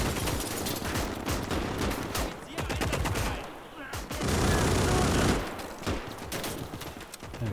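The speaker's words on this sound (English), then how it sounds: "Look at this mad machine gun. It's got a massive rate of fire." Quad Maxim anti-aircraft machine guns in the Gates of Hell WWII strategy game hammering out a very high rate of fire, a dense, loud, almost continuous roar of overlapping gunshots with a brief lull midway.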